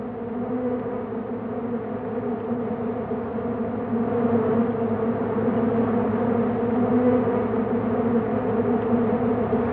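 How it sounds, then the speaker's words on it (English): Male alfalfa bees, about the size of honeybees, swarm in flight toward fields of alfalfa in a cool semi-desert area, a dense continuous buzzing drone that holds steady and swells slightly louder halfway through, with no voices. "The males, about the size of honeybees, then fly off and immediately begin feeding on the alfalfa pollen"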